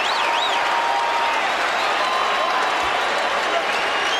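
A basketball arena crowd roars and applauds as Kobe Bryant reaches 81 points, a loud sustained wall of cheering that runs unbroken throughout, with a whistle-like tone rising and falling near the start.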